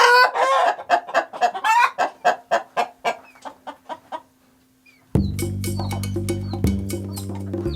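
Farmyard flock of local chickens clucking in a quick series of close, loud calls, followed by a rooster crowing with a sustained, droning call and other birds around.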